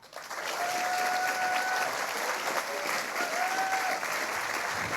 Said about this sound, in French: Je vous demande d'accueillir avec un tonnerre d'applaudissements Stéphanie Loire.